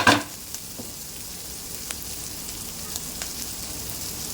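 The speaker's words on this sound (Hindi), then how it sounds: "अब इनको अच्छे से फास्ट गैस पे सौटे करना है आपको, और वेजिटेबल का क्रंच रहने देना है" Onions and vegetables sauté over a high gas flame for chicken noodles, a steady close sizzle and crackle with a sharp clatter at the start and faint stirring taps.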